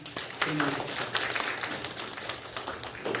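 A congregation claps together during a Sunday church worship service; steady, moderately loud clapping mixed with voices talking over it.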